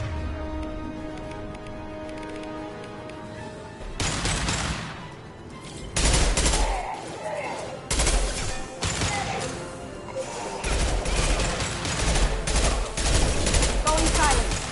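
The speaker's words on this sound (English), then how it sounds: "Firing concussive shots!" Concussive shots fired in the video game Mass Effect 2: sudden loud blasts and crashing bursts break in after a quieter stretch, repeating irregularly amid busy combat noise.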